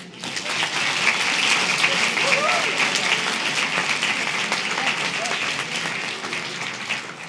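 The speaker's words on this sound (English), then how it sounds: "Give yourselves a round of applause." A large conference audience at a Model UN event applauds steadily for about seven seconds, dense continuous clapping that stays full and even throughout, with a few voices mixed in.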